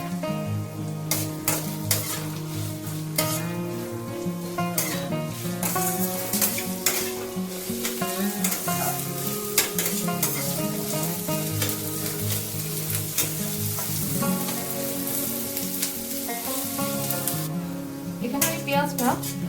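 Chopped onion fries with a fish head in a pan for a moong dal, giving a continuous sizzle with occasional utensil clinks. Background music plays throughout and mostly masks it.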